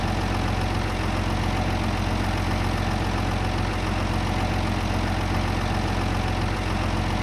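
Tractor engine in Farming Simulator 22, a steady, unbroken drone with a low rumble, like a heavy diesel idling or cruising at constant revs, loud and continuous throughout with no talk.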